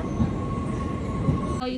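A passenger train on a public rail line bound for the Netherlands gives a steady interior rumble of wheels on track, with a constant tonal hum and a brief squeal near the end.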